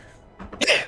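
A single sneeze bursts out nearby after a brief inhale, short and sharp, heard during a tabletop role-playing game session.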